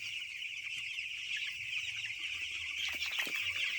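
Broiler chickens on a poultry farm cluck steadily in a dense flock, a continuous close chorus of overlapping calls with some sharper squawks near the end.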